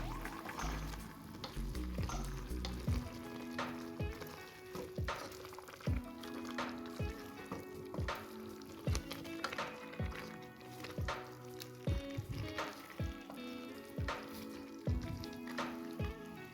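Chicken pieces frying in a covered pan for ayam tangkap make a continuous sizzle and crackle with irregular pops, faint and steady over the whole stretch, with music-like tones faintly beneath.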